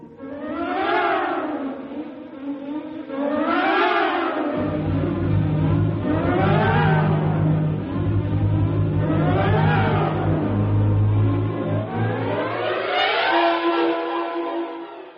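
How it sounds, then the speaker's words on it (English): A radio drama engine effect: a motor cranks and catches, then runs with rising and falling revs in repeated surges, loud and close, settling into a steady low drone. "Somehow the engine coughed and spit us back to the station."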